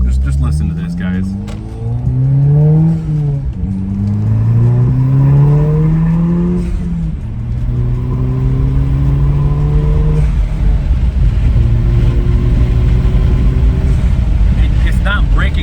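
An Audi 2.0T four-cylinder with a new turbo pulls hard through several gears on a test drive, the engine note climbing in repeated sweeps with shift breaks, loud from inside the cabin amid rushing road and wind noise.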